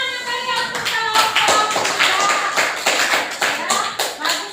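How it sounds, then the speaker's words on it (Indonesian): A classroom of students claps for a group that has just presented, giving dense, sharp handclaps close by that rise and fall in uneven bursts, with a few voices underneath. "kita berikan tepuk tangan yang kalian untuk kelompok"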